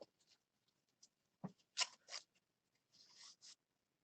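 Scissors snip through paper for a junk journal, a handful of short crisp cuts in irregular bursts, close but quiet against near silence, with no talking.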